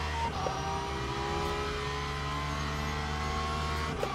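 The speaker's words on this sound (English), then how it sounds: "This car just sounds like a race car." A Porsche race car engine roars steadily in the Le Mans Ultimate sim racing game at Imola, a loud continuous drone with sustained high revs and no gear breaks, heard alone.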